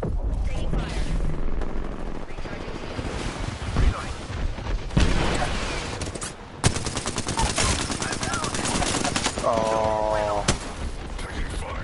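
Automatic and single gunfire from an Apex Legends firefight rattles almost continuously, loud and close, with bursts, impacts and game effects layered over one another while players talk over the battle.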